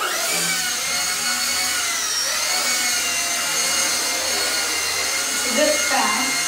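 A beginner RC helicopter lifts off on one-key takeoff, its steady motor and rotor whine droning continuously near the listener, with a slight rise in pitch toward the end while people talk over it.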